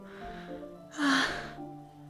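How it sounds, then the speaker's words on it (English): Sharp inhale sucked through the teeth in the Doki Doki Literature Club game, a single brief hissing breath rising in the middle between quieter tonal background music. "It sounds like breathing. A sharp inhale, like someone is sucking the air through their teeth."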